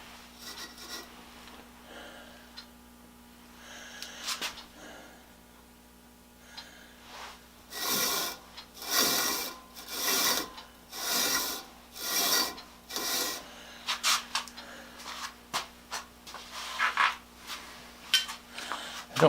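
A bench grinder wheel rubs as it spins, giving a series of about six rhythmic, rasping scrapes over a faint motor hum, with quieter scraping before and after.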